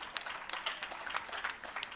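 A conference audience at a restorative justice event claps for about two seconds, a fairly faint patter of scattered, uneven hand claps with no one speaking over it.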